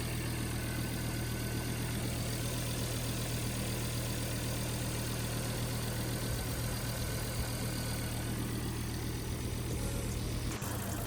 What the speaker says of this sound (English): So as you can see, the car is now running.